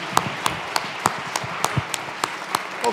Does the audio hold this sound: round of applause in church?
yes